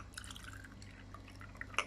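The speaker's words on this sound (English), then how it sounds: "now I am going to pour the hot coffee inside the cool water" Hot Nescafe coffee poured into a container of cool water gives a faint, quiet trickle with scattered drips, ending in a brighter little splash.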